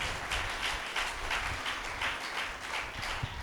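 A church congregation claps in steady rhythmic unison, a quick regular patter of many hands heard moderately close and fairly soft, with no talking.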